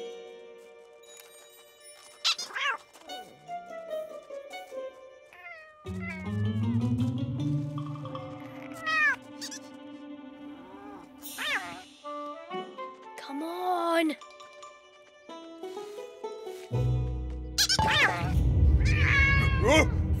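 Cartoon cat meowing and yowling in a children's animated barnyard scene, several drawn-out, wavering cries spread across the clip, some loud and close, mixed with music and other animated sounds.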